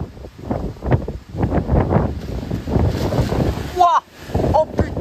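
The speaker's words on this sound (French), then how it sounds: "la situation s'est nettement dégradée. Regardez, des rafales à 110 km par heure sur Tetegem." Storm Ciaran gusts of about 110 km/h tear across Téteghem, a loud, continuous roaring rush with surging bursts that buffet the microphone, and a voice briefly exclaims near the end.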